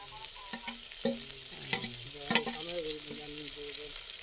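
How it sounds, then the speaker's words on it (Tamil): Tomatoes are stirred and fried in a pan for Chettinad-style mandi, with a low sizzle and scattered spoon clatters and scrapes against the pan, fairly close and moderately quiet. "தக்காளி போடுறேன் டமாட்டர்"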